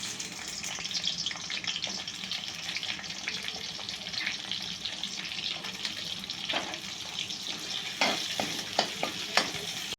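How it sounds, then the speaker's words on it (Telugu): Chopped onions sizzling in about four spoons of hot oil in a pan, a steady crackling fry with scraping stirs and a few sharper clatters near the end. "నూనె వేడెక్కినాక ఉల్లిగడ్డలు వేసుకుందాం"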